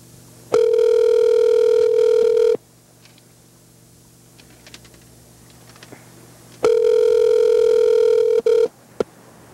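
A telephone ringback tone sounds on the line during a call, two long steady buzzing rings roughly four seconds apart, loud and clear with a quiet gap between and a brief extra blip at the end.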